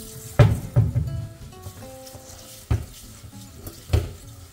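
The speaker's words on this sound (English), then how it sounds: "I'm going to rinse and wash rice." Rice rinsed and washed by hand in water, with splashy sloshing bursts and short knocks of grains and bowl, clustered early and recurring near the end, close and fairly loud with quieter gaps between.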